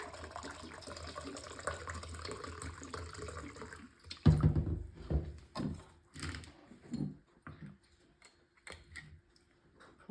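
Rum is poured into a glass in a quick, close splash of liquid after a quiet stretch, then trickles and drips in uneven bursts as the flow tapers off.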